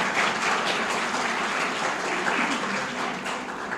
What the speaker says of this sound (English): So big round of applause for Professor Dr. James.